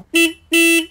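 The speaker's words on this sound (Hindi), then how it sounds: "हॉर्न काफ़ी लाउड है" Two loud, bright horn blasts close by, each short and steady, with a brief gap between them.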